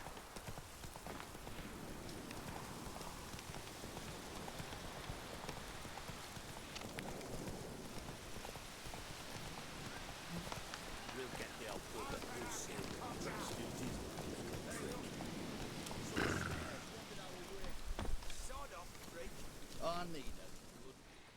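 The horse Roach gallops through the woods in The Witcher 3, steady rhythmic hoofbeats pounding continuously beneath wind and ambient noise, with a voice speaking over it.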